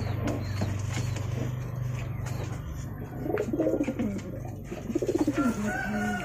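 Java Sungut pigeons in a colony cage give low cooing calls and soft rhythmic coos, with creaks and rustling from the cage under a steady low hum. Bursts of cooing grow louder near the end.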